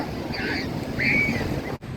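Loud, constant surf rushes at Labani Beach in Cox's Bazar during a Bay of Bengal low-pressure system, with wind buffeting the microphone and a couple of faint higher tones riding over the roar.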